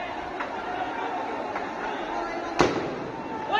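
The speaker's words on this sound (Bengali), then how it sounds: "ছাদের থেকে গুলি করতেছে" Gunshots ring out from a rooftop amid unrest, a few sharp cracks spaced apart, one louder and closer than the rest, over a background of distant crowd noise and voices.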